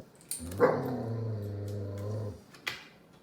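A dog lets out a low growl that rises into a drawn-out bark, followed by a short sharp yelp, close by with no talking.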